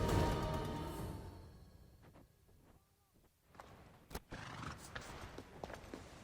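A horse in the video game Assassin's Creed Odyssey, The Fate of Atlantis, snorting and letting out a sharp whinny amid soft hoof clops, starting loud and close and then settling into quieter stamping and shuffling.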